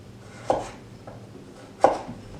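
A kitchen knife making angled cuts through vegetables on a board, two sharp, close chops about a second apart with a softer tap between, no talking.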